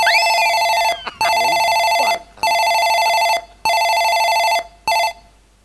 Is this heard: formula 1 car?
no